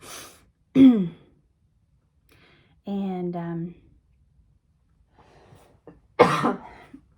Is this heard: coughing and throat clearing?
yes